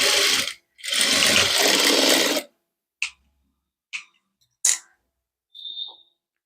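A sewing machine stitching a padded princess-cut blouse, heard as two sustained running bursts of machine noise followed by a few short clicks and taps of handling, close and with no talk.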